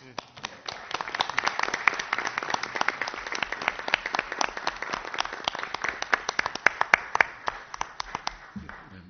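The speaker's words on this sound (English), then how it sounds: "The applause was for you." An audience applauds, dense, steady clapping from many hands that holds at an even level for several seconds, with brief voices mixed in.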